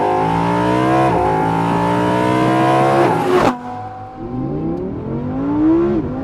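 A 2020 Audi R8 V10 Performance engine revs hard and loud close by, climbing through gears with sharp pitch rises, then cutting off abruptly and settling into lower, rising revs.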